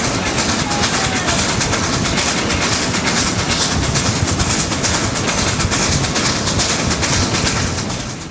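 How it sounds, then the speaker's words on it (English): Niles Canyon Railway steam train approaching the all-steel Dresser Bridge, a loud continuous rumble and clatter of rolling cars that dips slightly at the very end. "The train is approaching Dresser Bridge."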